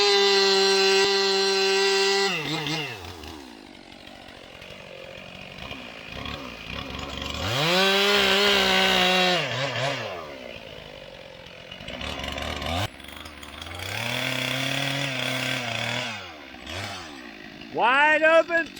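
A chainsaw cutting wood along a forest road revs up and down repeatedly, with a loud, rising and falling engine whine broken by brief idling dips.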